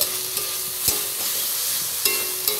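Spice paste ground on a grinding stone frying over onions for a chicken curry, with a steady broadband sizzle and a few sharp spoon-stirring scrapes and knocks at intervals.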